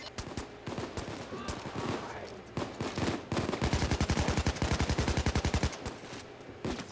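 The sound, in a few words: AK rifle gunfire fighting police in video game Payday 2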